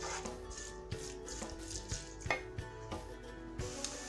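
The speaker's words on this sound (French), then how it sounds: "كنخليو الشرموله ديالتنا تحمر تشحر بلوطو." Chermoula spice mixture with a spoonful of water frying in a pan, close and fairly quiet, with irregular scraping and tapping of a utensil against the pan over a soft sizzle, no talk.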